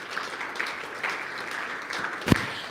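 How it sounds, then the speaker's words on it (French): A church congregation applauds and cheers for the King of Kings at a sermon, a soft, steady patter of clapping with one louder sharp clap near the end. "Est-ce qu'on peut acclamer pour le roi des rois?"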